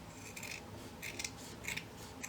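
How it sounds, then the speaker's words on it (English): Scissors trim the uneven edge of layered fabric on a pie-shaped sewn bunting piece, giving several short crisp snipping bursts close up, with no talking. "So all we do is we take our scissors"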